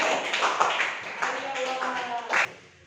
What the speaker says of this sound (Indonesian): tepuk tangan untuk Najla